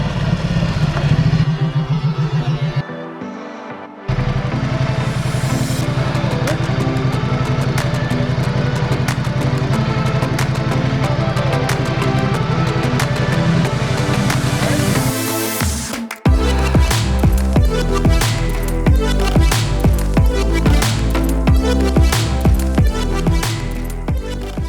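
A Ducati motorcycle with skyhook suspension set to its stiffest, ridden with a steady loud engine drone that changes abruptly partway through into rougher, pulsing mechanical noise, recorded close with no talking.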